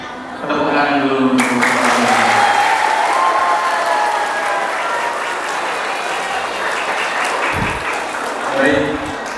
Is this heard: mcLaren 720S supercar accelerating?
no